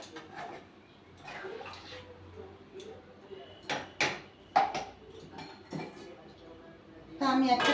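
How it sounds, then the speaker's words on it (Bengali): A metal plate is set down as a lid over a pot of aloo dum, making a few sharp clinks and clatters of kitchenware close by, spread across the moment with some quieter handling between. "আমি একটা থালা দিয়ে চাপা দিয়ে দিলাম।"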